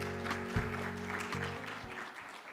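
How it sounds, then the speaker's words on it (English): Light audience applause at a housing and urban finance forum as Professor Tang is welcomed, a soft, even patter of clapping from a room of listeners, fairly faint and steady. "Please welcome Professor Tang with another big round of applause"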